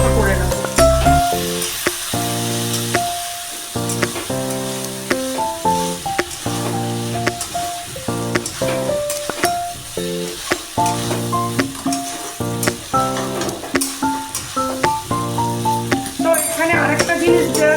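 Morola fish being fried into a chorchori in a pan gives off a steady, close sizzle with stirring scrapes throughout, under a background of tonal music.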